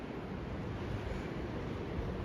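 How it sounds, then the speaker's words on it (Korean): Strong wind blows during snowfall in winter Pyeongchang, Gangwon, a steady low roar of gusts buffeting the microphone without pause, with no talking. "바람 엄청 불어"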